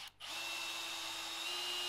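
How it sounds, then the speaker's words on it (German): A power drill driving screws into a wooden frame for a chicken aviary, a brief pause then a steady high whine running continuously, close and fairly loud. "Von der oberen Seite kann ich immer schön schrauben."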